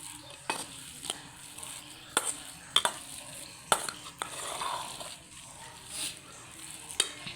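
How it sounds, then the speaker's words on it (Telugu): Cooked chana dal mashed with a metal ladle in a pot for purnalu, soft scraping and stirring broken by several sharp clinks of the ladle against the pot, close and fairly quiet. "కొంచెం గరిటతో ఇట్లా మెదుపుకొని మెత్తగా అయిన తర్వాత దీనిలో బెల్లం తురుము వేసేసుకోవడమే"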